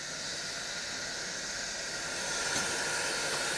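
Steady hiss of steam from a steam locomotive on a Swiss mountain railway as it moves a wagon, a continuous broadband rush that swells slightly toward the end, close and without speech.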